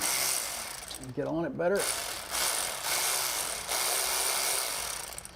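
Ratchet wrench clicking on the lower shifter bracket bolt of a Corvette C5, a short burst of close ratcheting amid background noise, while someone speaks briefly.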